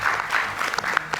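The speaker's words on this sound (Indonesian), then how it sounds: "Oke, kita berikan tepuk tangan, Bung Adian." A short burst of studio audience clapping for Bung Adian on an Indonesian political talk show, steady and moderately loud for just over a second.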